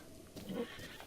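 A horse whinnies in the video game Breath of the Wild, a short, faint neigh rising briefly in the middle, heard alone with no talk over it.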